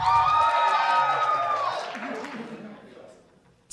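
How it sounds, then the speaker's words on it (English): A studio audience at a comedy game show claps, cheers and chuckles in a dense burst to vote for a game, loud at first, then fading out over a few seconds. "when I put my hand above the game you want, clap for that game"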